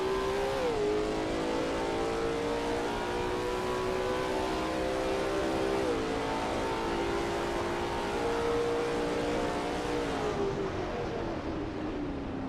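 Lola T70 MkII Spyder race car driving around the Österreichring in a 1979 setting of a racing sim, a steady loud engine drone holding pitch with a few brief dips at gear changes, no talk.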